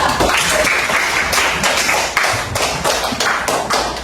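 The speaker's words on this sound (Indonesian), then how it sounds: "Tepuk tangan dulu untuk kelompok 3" A classroom audience applauds after a student group's presentation, a dense, steady burst of clapping close by and fairly loud.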